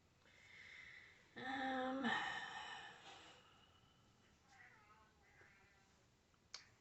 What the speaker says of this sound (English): Sorry if you hear my cats and they're fighting.